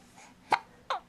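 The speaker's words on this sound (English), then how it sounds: "Why did we get the hiccups when we were going to make a video, huh?" A baby hiccups twice, short sharp bursts spaced about half a second apart, close and clear over a quiet room.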